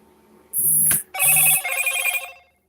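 A telephone rings in two loud, close bursts of electronic trilling with a short gap between them, the second burst trailing off into a fading tail.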